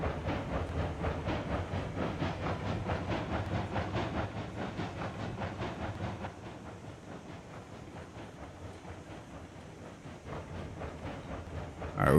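Class 70 steam locomotive hauling a train in Railroads Online, a steady chugging rumble with rhythmic clicking and hiss that holds fairly loud for four seconds, then eases to a quieter running sound before swelling again at the end.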